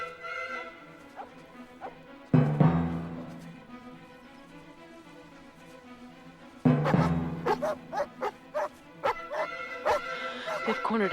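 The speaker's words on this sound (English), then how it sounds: "Loose the dogs." Several dogs bark and yelp after being loosed, bursts breaking in loudly twice amid a busy film scene, with repeated sharp barks toward the end over background sound.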